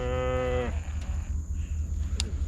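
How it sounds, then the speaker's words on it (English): A loose cow with its calf near a lake lets out one clear, drawn-out moo lasting under a second, fairly close, followed by outdoor ambience with a low rumble and a brief sharp click. "There's a wild cow."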